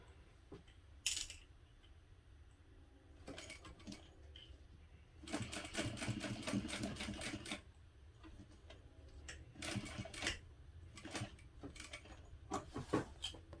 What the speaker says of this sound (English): I'm just going to top stitch down each side